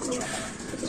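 A racing pigeon coos close by, a soft low repeated warble running through the moment with faint background noise.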